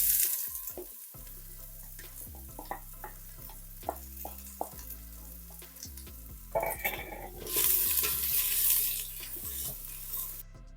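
Onion and garlic frying in oil in a pan for lasagne, a bright hissing sizzle with repeated scraping stirs and clinks of the utensil against the pan, close up and with no talking.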